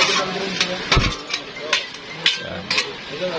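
Metal utensil scrapes and clinks against a pan while pansit bato noodles from Bato, Camarines Sur are tossed with vegetables, several sharp clanks spaced irregularly over a soft sizzling bed.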